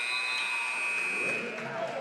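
A loud, sustained electronic buzzer blares over crowd noise at a high school basketball game in an arena, fading slightly toward the end.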